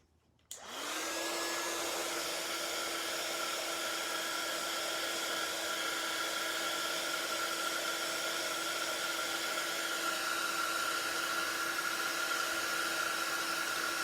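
A heat tool blows steadily to dry craft ink on white card, switching on abruptly and then holding a loud, constant whirring hiss with a high tonal whine throughout, with no talk.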